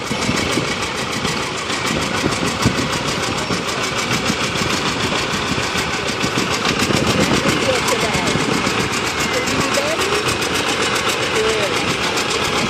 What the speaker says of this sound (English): Next up is a John Deere 830 on diesel.